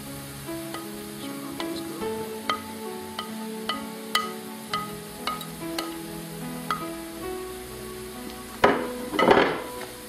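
Mushrooms and chili frying with mince for spaghetti bolognese, a continuous sizzle under repeated spoon knocks and scrapes against the pan, rising to a louder clatter of stirring near the end, with no voices.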